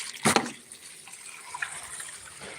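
Water runs from a tap into a bucket, a soft, steady trickle after a brief louder splash at the start, heard alone.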